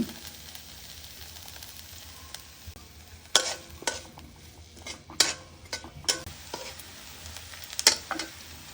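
Chicken keema cooking with onion in oil, a low steady sizzle broken by repeated clanking spatula strikes and scrapes against the pan, close and irregular.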